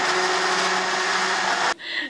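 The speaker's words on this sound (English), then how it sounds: "you can also just blend up the broth in the blender, which is a lot faster" A kitchen blender whirs loudly and steadily, blending vegetables into broth, then stops abruptly near the end, leaving a brief quieter whirring tail.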